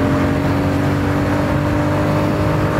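A Royal Enfield Classic 350 motorcycle pulls hard through the gears on an open road, its engine giving a loud, steady drone close by with no voices.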